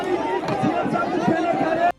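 A noisy crowd gathered around Arvind Kejriwal's stage at a public visit, a dense babble of many voices and shouts close by, continuous and loud until it cuts off abruptly.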